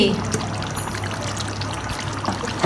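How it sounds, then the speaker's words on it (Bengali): Two tablespoons of ghee pour into a cooking pot for beef rezala, making a soft, continuous trickle that stays close and unbroken for a couple of seconds. "তারপরে আমি দিয়ে দিচ্ছি দুই টেবিল চামচ ঘি"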